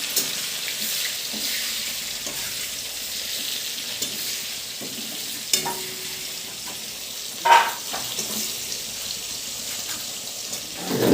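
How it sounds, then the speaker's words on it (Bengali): Onions sizzle and fry in hot oil in a pan while cooking masala for a meat roast, a steady close hiss with occasional pops and stirring, no talking. "পেঁয়াজগুলোকে ভেজে নেব।"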